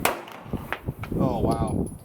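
A CZ Shadow 2 pistol fires a single 9mm round, a sharp crack at the start, followed by softer clicks and metallic handling noise with a brief murmur of a voice.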